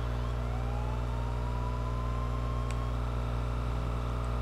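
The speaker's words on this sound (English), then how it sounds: "He just turned on his lights and siren." A police car siren from the video game GTA wails steadily over a constant engine and road drone, a smooth rising tone held close and loud throughout.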